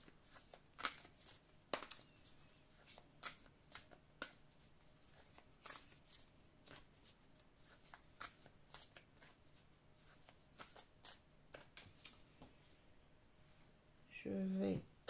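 Love-language tarot-style cards are handled and shuffled, crisp scattered flicks and slaps spaced irregularly, close and quiet, ending in a denser riffle burst; a voice speaks softly alongside.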